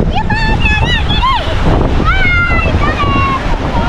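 Sea waves wash steadily against the shore of a fishing village at Brgy. Wawa II, Rosario, Cavite, a constant loud broadband roar with wind, while high chirping calls rise and fall over it.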